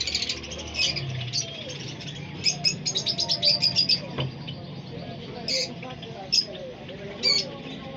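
Caged birds in a bird market at Kohati Gate, Peshawar, chirping and tweeting in quick bursts and trills over a low bazaar hum, with a person talking faintly in the background.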